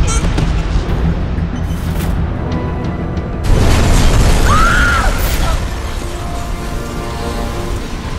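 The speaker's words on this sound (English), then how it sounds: "Source of explosion was an oil truck on the bridge surface." An oil truck explodes on a bridge in the Batman: Arkham Origins video game. A heavy boom bursts loudly and is followed by a long rumbling roar and scattered debris noise.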